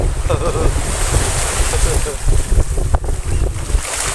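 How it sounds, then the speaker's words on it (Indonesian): Sea waves wash onto a beach near Semarang while shells are gathered, a steady near roar of surf mixed with wind buffeting the microphone. No one speaks over it. "Ini laut di daerah Semarang guys."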